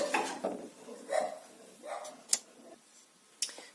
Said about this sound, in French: j'ai dû couper car mon chien s'est mis à aboyer